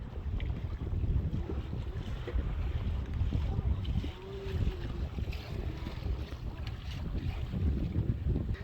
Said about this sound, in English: It's got some good wind gusts there